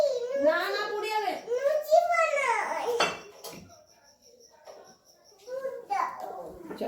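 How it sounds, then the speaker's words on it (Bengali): Dishes and pots being stacked away in a home kitchen: a brief clatter and a lingering metallic ring midway, mostly under a small child's babbling and someone talking. "অনেক বাসন রয়ে গেছে, সেগুলো আমি আর গুছাইনি। এই দেখো এগুলোকে এখন আমি গুছিয়ে নেবো"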